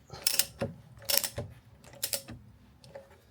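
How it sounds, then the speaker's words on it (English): A ratchet wrench tightens the 15mm side bolt of a torque mount on a Ford Focus ST/RS/XR5 Turbo MK2, heard as several short bursts of close, crisp ratcheting clicks separated by brief pauses. "I am just tightening up the side bolt here, the 15mm for the torque mount."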